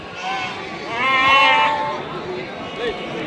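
Goats bleat at a livestock market, one long wavering cry rising in the middle with a shorter call near the end, heard close over a murmur of crowd and talk.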